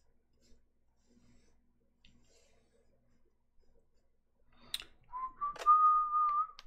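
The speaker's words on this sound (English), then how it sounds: "I shouldn't whistle." A person whistles a short, sustained melodic tune close by near the end, after a few seconds of quiet faint rustling.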